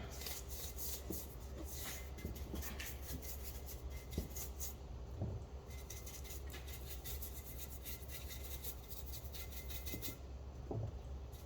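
Scrubbing stubborn oil stains off an Alfa Romeo GTA manifold with paint thinner, a steady close rasping rub in quick repeated strokes with occasional soft knocks, fairly quiet and without talk.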